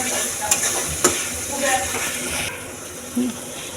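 Ground spices such as chilli, turmeric, cumin and coriander powder sizzle in a pan while being stirred, with a couple of sharp utensil clinks over a steady frying hiss that drops a little toward the end.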